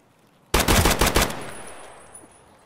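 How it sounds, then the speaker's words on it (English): A sudden, loud burst of rapid automatic gunfire from the Escape from Tarkov shooter game, about six fast shots close together, then a decaying echoing tail, with no talk. "somebody's shooting me"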